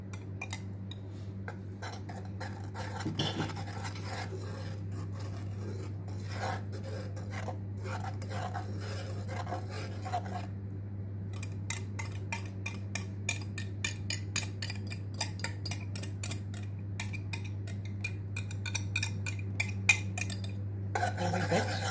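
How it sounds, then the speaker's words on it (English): A whisk scrapes and clinks through a flour mixture in a pot while making mac and cheese. Quiet, rapid metallic ticking repeats steadily, growing more distinct in the second half, over a low steady hum. "And my flour mixture going in, and I'm going to give this a whisk"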